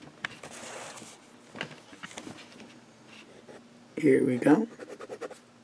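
A Visconti Watermark fountain pen nib scratching across Tomoe River paper in a short, close burst of writing strokes near the end, after a brief spoken remark over faint room noise.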